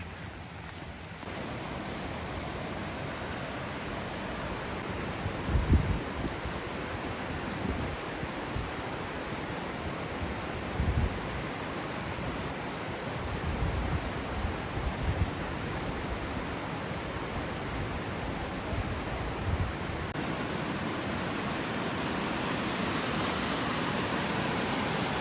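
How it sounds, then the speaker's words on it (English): The Mashel River near Eatonville, Washington, flows with a steady broadband rush of water that continues unbroken and moderately loud, with a few soft bumps from footsteps or handling. "We're about to get our first look at the Mashel River."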